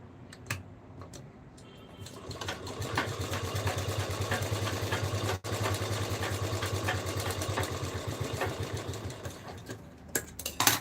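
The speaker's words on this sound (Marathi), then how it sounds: "या साईडने पण आपल्याला सेम त्याच पद्धतीने शिलाई मारून घ्यायची आहे" A sewing machine stitches a baby Krishna dress with a steady, fast mechanical chatter that runs nearly continuously for several seconds. A brief pause and a few clicks of handling come near the start and end.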